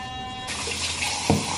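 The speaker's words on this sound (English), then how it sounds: "I am basically going to let this water run until it's pretty warm" Tap water runs into a bathroom sink, a steady close hiss and splash that starts abruptly and continues, with a brief knock partway through.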